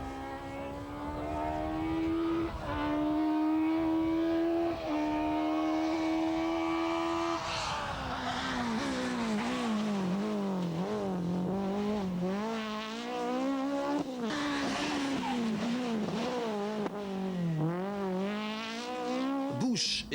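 Citroën rally cars dueling in a two-wheel-drive Formula 2 class battle at the 1998 Rallye de la Famenne, engines screaming loud and close, pitch rising through gears then swooping up and down as the cars pass and brake.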